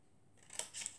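A quick pair of crisp scissor snips cutting paper for a handmade chocolate box, close and soft in a quiet room.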